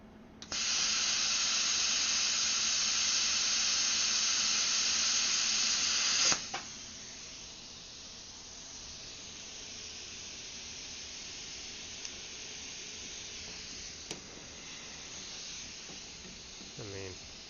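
A Prime Weld Cut 60 plasma cutter cutting metal on a workbench at low amperage, giving a loud, steady hiss for about six seconds that cuts off abruptly, followed by quieter room sound and a few small clicks.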